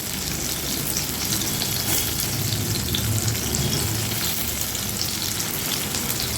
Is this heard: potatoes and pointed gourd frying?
yes